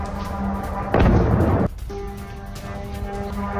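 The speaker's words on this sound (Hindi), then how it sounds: "ज़ेपोरिजिया के कई इलाकों में विस्फोट की खबरें हैं" A single heavy, rumbling blast from a Russian drone attack in Zaporizhzhia, Ukraine, bursts out for under a second against a low background hum.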